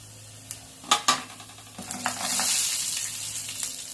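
Cumin and other tempering seeds hit hot oil for a cauliflower chutney, giving a few sharp pops and crackles, then a steady sizzle that rises and fades, with light clinks of a pan or spoon.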